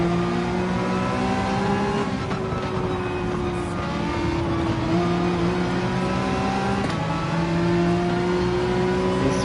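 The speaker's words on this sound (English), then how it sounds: "Ferrari there is now back to being great on the pedal at the right time. You can hear him when he's on throttle" A Ferrari race car in Gran Turismo 7 holds a steady, tonal engine whine on throttle, with slight pitch shifts and brief dips as it shifts, continuous and fairly loud with no talking.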